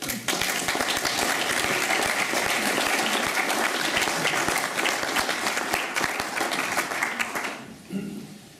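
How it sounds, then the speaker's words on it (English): Audience clapping for a fallen Victoria Cross recipient at a talk and paving stone unveiling, a dense, even round of applause from a gathered crowd that holds for several seconds, then fades quickly to a few scattered claps. "I think Tom Neely deserves a bit of a clap from you people"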